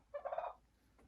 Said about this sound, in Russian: Вот так индюшка зовет индюка.